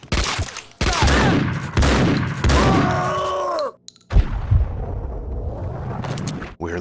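Gunfire in the video game Max Payne 2, with loud bursts of shots cutting in and out over several seconds amid dense game action, broken by a brief near-silent gap before another burst.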